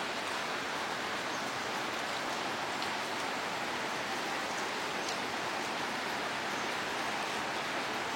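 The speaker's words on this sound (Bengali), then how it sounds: "অনেক বৃষ্টি হচ্ছে, তাই না?" Heavy rain pours down as a soft, even, continuous hiss, fairly distant and unbroken throughout, with no talking.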